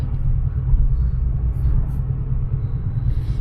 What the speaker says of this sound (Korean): 지금 약간 웅웅거리는 소리가 나는데 부밍음이 들리는데 이거는 지금 타이어가 각졌습니다